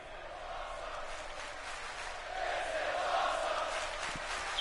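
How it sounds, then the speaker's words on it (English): A Chicago wrestling crowd at a UPW event roars and cheers in a broad, steady wash of noise that swells louder midway, heard from within the arena. "Chicago crowd loving this"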